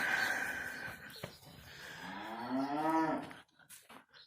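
A cow on a farm moos loudly for her calf penned nearby, one long drawn-out bellow that rises and swells before cutting off, with barn noise around it.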